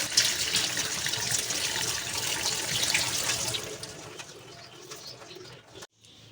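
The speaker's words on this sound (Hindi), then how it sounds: "अब मैं इसको एक दफ़ा सादे पानी से धो लेती हूँ।" Fresh mint leaves being rinsed in plain water in a kitchen: steady, close splashing and running water for a few seconds, then a quieter trickle that ends in a brief pause, with no talking.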